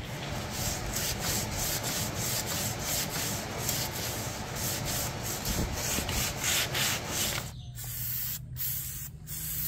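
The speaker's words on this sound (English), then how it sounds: "A little bit of hand sanding, and we're going to spray it." Steady rhythmic scratching of sandpaper rubbed by hand back and forth over a wooden child's rocking chair, close and continuous, with a few sharper strokes near the end.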